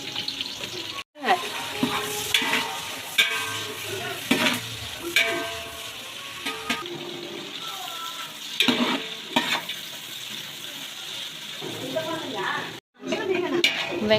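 Whole spices such as cinnamon, cloves and cardamom frying with green chillies and a kilo of onions in hot oil for biryani, a continuous crackling sizzle with scraping stir strokes and occasional talk over it.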